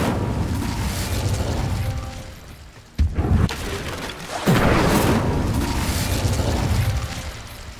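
An Incendio fire spell is cast in the Hogwarts Legacy video game. A sudden sharp burst is followed by a rising, roaring whoosh of flame that stays loud and broad.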